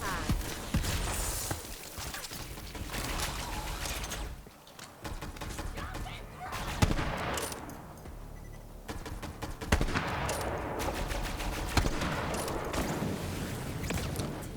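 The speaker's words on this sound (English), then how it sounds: "Something is shooting me from above here." Gunfire from an enemy shooting down at the player from above in Borderlands 3, with flame bullets: dense, sustained bursts of automatic fire and impacts over a long stretch, close and busy, with a voice talking intermittently underneath.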